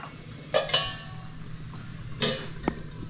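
A metal kadai with oil in it is set down on a home stove, producing a few bright metallic clinks and clanks spaced apart over quiet kitchen background.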